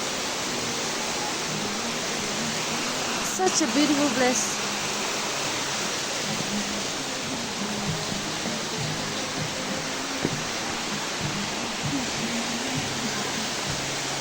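Elephant Falls waterfall near Shillong pours a steady broadband rush of falling water throughout, with people talking briefly over it.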